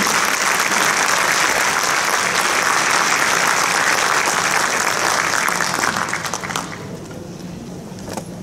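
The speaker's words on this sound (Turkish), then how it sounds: "alkışlarınızla Veli Bozkır beyefendiyi huzurlarınıza davet" Audience applause at a special concert event in Karabey, sustained and dense, loud and close, then thinning and fading toward the end.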